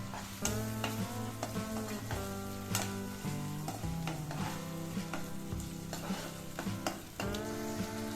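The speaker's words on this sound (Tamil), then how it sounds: "நல்லா வதக்கிக்கலாம்." Chopped onions sautéing in oil in a kadai, a steady sizzle with occasional stirring, partly masked by continuous background music and no speech.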